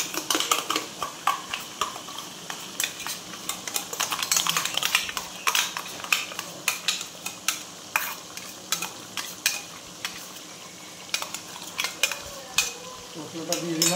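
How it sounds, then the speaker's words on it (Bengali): A spoon stirs a green chilli, ginger and garlic spice paste for meat in a pan, scraping rhythmically with repeated clattering strokes over a soft sizzle. "এর মধ্যে একটু জল দিয়ে মশলাটাকে নেড়ে ওর মধ্যে দিয়ে দেবো।"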